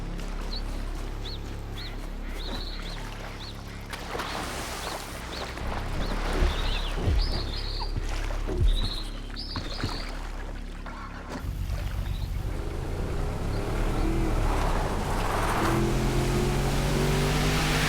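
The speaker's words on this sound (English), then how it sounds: "To help with making sharper turns in the boat, you can hold down the R1 button" In GTA Online's Cayo Perico, a speedboat's engine drones under rushing water and splashing, with surges and sharp bursts as the boat turns and hits waves. It is continuous and loud, with no talking.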